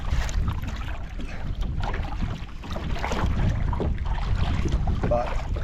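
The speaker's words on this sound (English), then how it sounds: "we're gonna paddle over to our spot and start casting" A fishing boat paddled across an inland lake in northern Wisconsin after ice-out, with rhythmic water swishes and sloshing under heavy, steady wind noise buffeting the microphone, close and loud with no talking.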